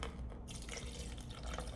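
Water pours in a steady, close stream into a protein shaker for a couple of seconds.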